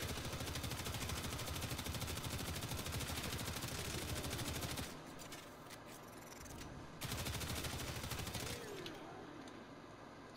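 Stradavar assault rifle in Warframe, fitted with the Shred mod for a faster fire rate, fires at heavy gunners: a dense, loud stream of rapid shots for about five seconds, a short lull, then another sustained burst.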